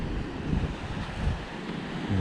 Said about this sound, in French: Mais là, il y a des grosses vagues.